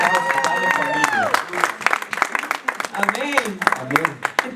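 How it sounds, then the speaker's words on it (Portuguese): A church congregation claps during a bilingual Portuguese and German service on restoring the family, the scattered claps sounding under a preacher and an interpreter who keep talking over them. "Gib einen Applaus für deine Familie."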